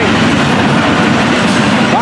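Freight train on the FEC line with auto racks and double-stack cars rumbling past close by, a steady loud roar with faint rail clatter and a brief squeal near the end.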